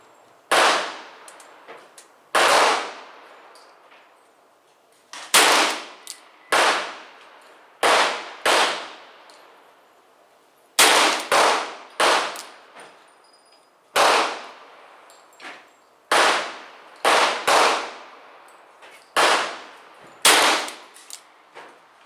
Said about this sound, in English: This shot being done at 25 yards.